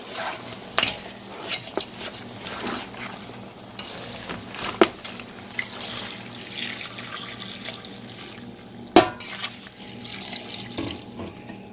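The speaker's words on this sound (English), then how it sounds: "I'll add some water now at this point." Water pours from a tap into a pot of seasoned assorted meat for Nigerian pepper soup, a steady faint splashing flow with occasional clinks and knocks of the pot.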